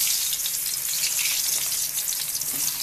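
Fresh local eggplant fries in mustard oil, crackling and sizzling close up in a dense, continuous spatter with small pops throughout.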